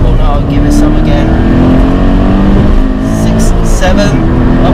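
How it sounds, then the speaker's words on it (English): A loud Toyota GT86 engine revs hard and climbs in pitch with road roar, heard from inside the car, with a voice talking over it. "Listen to that engine, it just loves to rev."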